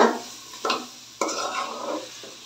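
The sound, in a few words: stirring chicken gizzard and liver khichuri in a pan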